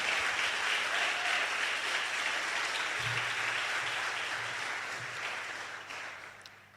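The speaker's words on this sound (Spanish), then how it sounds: "Denle un aplauso al Señor." A Spanish-speaking church congregation gives sustained applause, a dense, even wash of many hands clapping that slowly fades toward the end.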